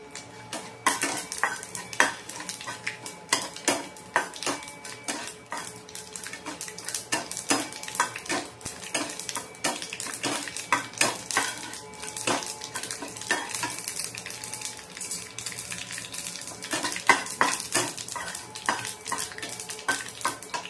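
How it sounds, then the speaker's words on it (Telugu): Mustard seeds, fenugreek, asafoetida and dried red chillies tempering in hot oil for a ridge gourd yogurt chutney, giving a dense, continuous crackle and sizzle with sharp pops and stirring clinks throughout, no voices. "చూసారు కదా, అలా మెంతులు వేగిపోవాలి. బాగా వేగిపోయాయి."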